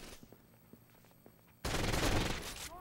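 Quiet game sounds with a few faint clicks and thumps give way to a sudden loud burst of rapid automatic gunfire in Rainbow Six Vegas 2, the shots running continuously to the end.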